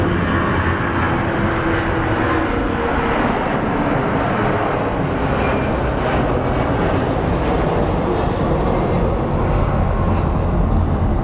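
A departing Boeing 757 gives a loud, broadband engine roar that stays steady and close throughout at a busy airport.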